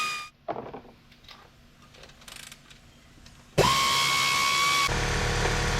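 A power tool spins out transfer case studs during an off-road 4x4 conversion kit install, starting with a few faint clicks and handling knocks, then a loud, close, sustained whir with a high tone until the end.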